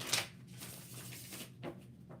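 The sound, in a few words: shuffling a tarot card deck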